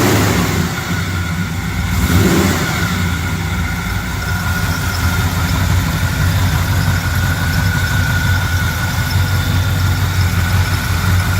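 The engine of a 1947 Chevrolet Thriftmaster pickup truck runs loud and close, with a brief rev near the start before settling into a steady, rumbling idle throughout.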